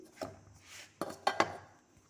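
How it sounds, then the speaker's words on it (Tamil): Ground roasted gram being mixed with other ingredients in a bowl, a few close scraping and clinking strokes against the dish, short and fairly quiet. "போட்டு எல்லாம் ஒன்றா கலந்து விட்டுக்கணும்."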